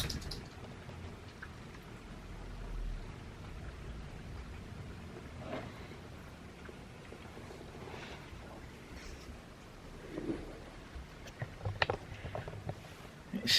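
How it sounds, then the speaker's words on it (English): Steady rain falling outdoors through a whole day, a continuous broadband wash with scattered patters and drips, soft and even at moderate distance with no talking. "It's still raining."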